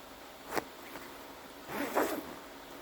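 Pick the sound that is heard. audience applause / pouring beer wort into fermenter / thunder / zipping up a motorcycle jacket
zipping up a motorcycle jacket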